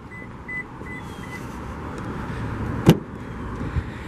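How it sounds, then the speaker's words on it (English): A 2017 Toyota 4Runner SR5 Premium's keyless entry key fob sets off a short series of four quick electronic lock beeps. The chirps sound early and a little distant, over a steady background hum, and a single sharp thump follows later. "Does have your typical Toyota keyless entry key fob with lock, unlock, and panic."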